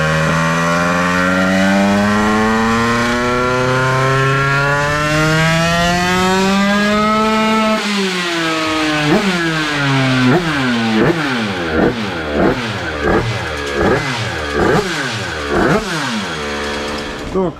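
A 96cc Bidalot moped engine with a prototype exhaust and KRM cartridge revs loudly on a dyno, climbing steadily in one long pull, then dropping into a series of sharp, rhythmic blips and throttle bursts.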